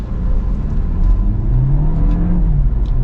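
A 2020 Volkswagen Jetta SEL with a turbocharged engine accelerating from inside the cabin: loud, steady engine and road roar rises in pitch, with quick gear shifts briefly dropping the tone.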